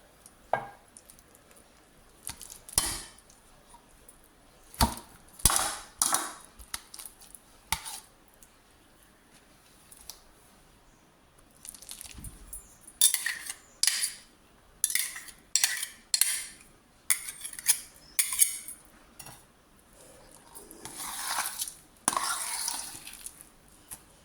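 A potato masher presses into boiled purple yam in a pot, giving repeated soft squishing thuds and scraping clatter. The strokes come in uneven bursts, close and moderately loud.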